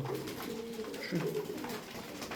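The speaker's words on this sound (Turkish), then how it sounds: "Lastik top gibi kuşlar." Pigeons coo softly in a short, low, murmuring burst, fairly faint and close by, with a little background noise.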